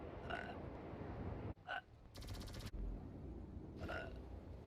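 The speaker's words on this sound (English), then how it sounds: "There's that first burp for you guys." A person lets out a few short, throaty burps in close succession, standing out against a steady noisy room background.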